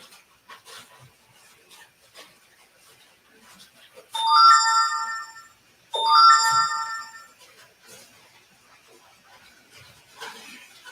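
Mobile phone ringtone at an indoor mid-winter gathering, two bright melodic bursts of ringing close by, separated by a short gap, with soft rustling and quiet talk around them.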